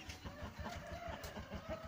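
Chickens and a small rooster cluck softly and continuously in a henhouse, a low, steady murmur of short cackles with faint background rustling and no talk.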